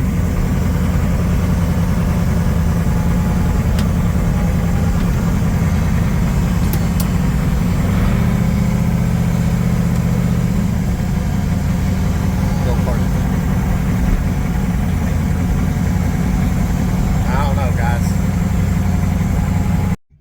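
A small block Chevy V8 with a blow-through carburetor, in a 1980 Trans Am, idles steadily with a deep, even rumble for twenty seconds while someone talks over it.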